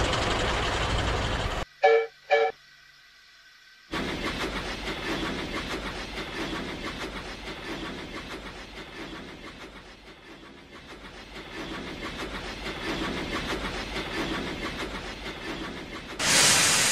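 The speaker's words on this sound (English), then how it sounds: "Just follow me to the yards, and Wallace will shunt our train." A train being shunted through railway yards, a steady rumbling, hissing run that rises and falls and carries on for most of the stretch after a short break near the start.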